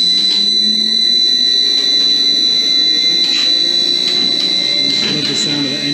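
A heavy tram engine on a Victorian tramway in Scarborough hums steadily as it starts up, with a high mechanical whine on top, its low tone slowly rising as it builds up power.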